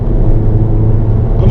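A car engine pulls hard under acceleration during a track-day lap on a race circuit, a loud steady in-cabin roar with a rising note near the end and a voice speaking over it.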